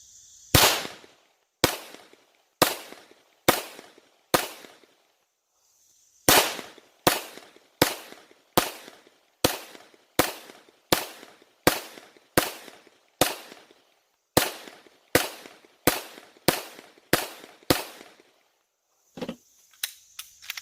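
Glock 17 pistol fired at a shooting range, about two dozen sharp, loud reports in steady paced strings with brief pauses between groups, each shot ringing out with a short echo.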